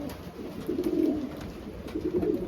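A pigeon cock coos at a hen in a breeder's loft in New Zealand, giving two rolling, throaty coo phrases at close range against a faint background hiss.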